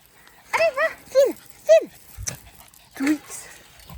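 A dog outdoors at a fenced meadow gives a run of short whiny yelps and whimpers, four or five close, loud bursts in quick succession, with a voice briefly heard between them.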